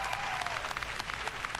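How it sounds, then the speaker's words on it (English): A studio audience applauding on a family food game show, dense steady clapping from a crowd throughout, moderately loud and close with no clear talk over it. "You're clapping for 1 point."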